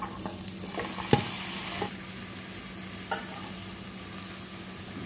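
Boiled banana flower and black peas sautéing in a pan: a steady low sizzle with a few sharp clinks and scrapes of the spoon stirring against the metal, no voices.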